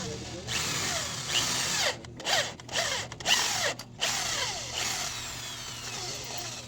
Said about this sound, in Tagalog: gamit tayo ng drill mga boss drillin muna natin